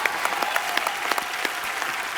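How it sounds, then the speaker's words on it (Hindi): A studio audience claps for a few seconds, a dense patter of many hands that stays fairly steady and close, with no talking over it. "ऑनेस्टी के लिए तो तालियां बनती पहले।"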